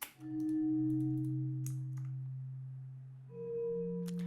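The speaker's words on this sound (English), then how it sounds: "Without any effects, my melody would sound like this" Sustained synth chords with a dark tone and no effects, holding long notes, then shifting to a higher chord near the end.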